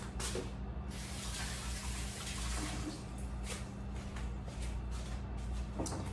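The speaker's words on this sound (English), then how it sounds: "Okay, wash my hands." Tap water runs steadily while someone washes their hands at a kitchen sink, a continuous close splashing rush with small splashes on top.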